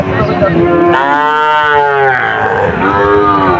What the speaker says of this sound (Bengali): সুন্দর সুন্দর বাছুর এই হাটে আছে দর্শক